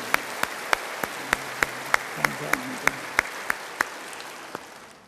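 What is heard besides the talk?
audience applause in church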